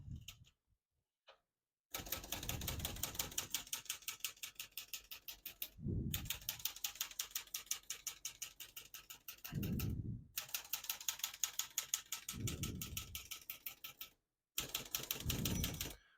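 A 1967 Olivetti Lettera 32 manual portable typewriter clacks in a steady, rapid rhythm of keystrokes, with short pauses and heavier thunks of the carriage between bursts, close by.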